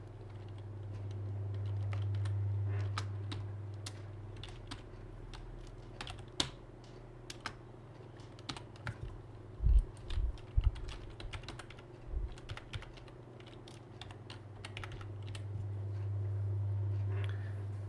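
Soft, steady computer keyboard typing while editing Google Form questions, scattered irregular key taps with a few louder clusters over a faint low hum, close and quiet.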